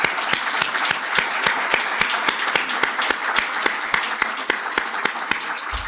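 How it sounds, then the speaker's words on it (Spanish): An audience at an academic event on space development claps together, loud sustained applause with some sharp individual claps standing out in a fairly regular rhythm, close and continuous. "Les pido entonces un aplauso, como hago siempre, para todos nosotros por la intervención"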